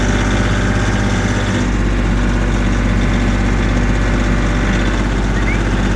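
A Subaru car's engine running as it pulls into a driveway, a loud, constant low rumble and vibration heard from close by with no change in pace.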